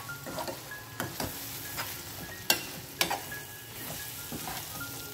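Dal with whole garlic cloves sizzles steadily in a pan while a spoon stirs it, with a few sharp scrapes and taps standing out over the constant frying hiss.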